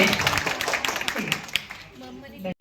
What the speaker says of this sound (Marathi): जियासाठी काय जोरदार टाळ्या वाजवा दे.